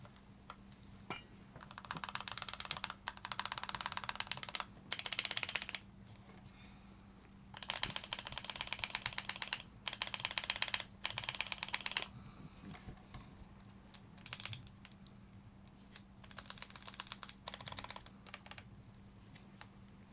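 Bursts of rapid clicking keystrokes on a custom-built mechanical keyboard, close and fairly quiet, coming in several runs separated by short pauses, with a faint steady hum underneath.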